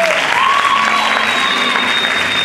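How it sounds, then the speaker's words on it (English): Audience at a university Black & Gold pageant applauds its contestants, a steady, loud wash of clapping from a crowd, with a faint voice and a high feedback-like tone beneath. "let's give a hand clap for our lovely contestants"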